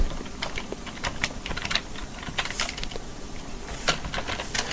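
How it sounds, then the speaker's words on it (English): Typing on a computer keyboard at a Linux shell, a close, quiet stream of irregular key clicks and taps continuing throughout, with no voices. "Type unique characters in the command and press the tab key."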